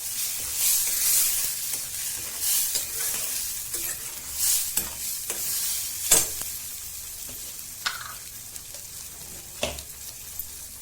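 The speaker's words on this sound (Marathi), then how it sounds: "हळद घालायची थोडी आणि गोळा चांगला तेल सुटेपर्यंत कलसू द्यायचा" Fenugreek paste with turmeric fries in oil, a soft continuous sizzle broken by repeated scraping strokes and clicks of a spoon stirring the mixture, close and moderately loud.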